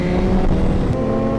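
Motorcycle roll race with the rear wheel spinning, an S1000RR among ZX10, CBR-RR and GSXR bikes in Miami: a loud, steady, high-revving engine drone holds throughout with a hard mechanical whine, no voices.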